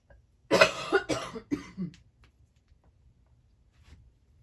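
Three or four harsh coughs in quick succession, close and loud, followed by a faint throat sound in an otherwise quiet room.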